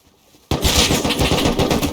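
Rapid automatic gunfire in a video game starts abruptly and continues as a loud, dense burst of shots after a brief quiet moment.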